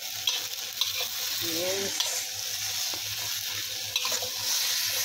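A Chinese stir-fry with parsley, oyster sauce and salt sizzles in a hot pan, steady close frying with periodic scraping stirs of a spatula and a brief spoken word in between.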